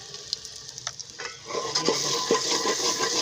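Ingredients roast in a pan with a couple of spoonfuls of salt, quiet scattered taps at first, then a steady close sizzle with occasional stirring scrapes.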